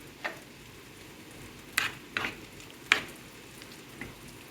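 A spatula scrapes and taps through shredded cabbage and grated carrot in a pan over low heat, a handful of distinct clicks over a faint continuous sizzle, quiet and close.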